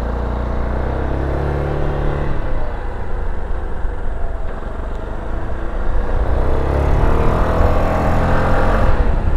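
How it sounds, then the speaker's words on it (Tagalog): SYM ADXTG 400 adventure scooter engine on a test ride, a steady low rumble with wind that swells into a harder, louder pull near the end, riding alone without voices. "Ang responsive din ng kanyang engine, mga idol."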